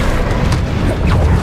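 A Bombarda spell blast in Hogwarts Legacy gameplay, a loud, dense booming rumble that fills the whole moment, heavy and sustained with no clear gaps.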